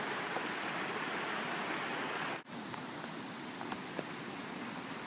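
Water spilling over a dam into the river downstream at the Argo Cascades, a steady broadband rushing roar heard from the side of the dam, continuous apart from a brief dropout midway.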